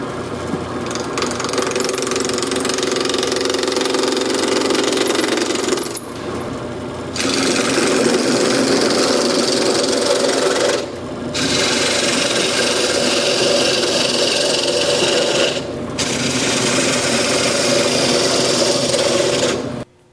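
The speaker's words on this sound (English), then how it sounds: "I've got my piece of wood chucked up in the lathe now, and we're going to turn it down" A wood lathe turns a wooden reel seat blank for a bamboo fly rod, a steady whirring motor with rasping cutting noise that runs loud and continuous, broken by a few short pauses where the tool lifts off.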